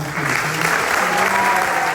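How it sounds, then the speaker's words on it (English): A theater audience applauds at a Disney Magic Kingdom event for the refurbished Country Bear Jamboree, loud dense clapping throughout, with a faint tonal hum beneath. "Big round of applause for Ken."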